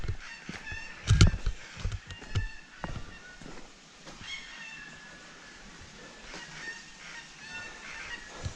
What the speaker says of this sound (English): You can hear those birds going crazy.